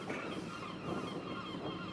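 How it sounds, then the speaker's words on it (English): Harsh, nasal gull calls ring out over a steady background hum at Weymouth Harbour, moderately close and unaccompanied by speech. "with the iconic gull sounds. Oh, and there's your gull."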